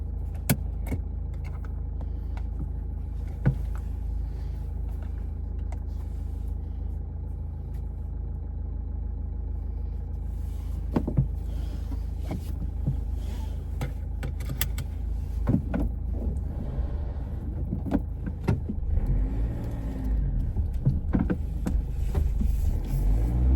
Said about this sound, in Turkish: Buradan artık arabanın sesi ne kadar geliyor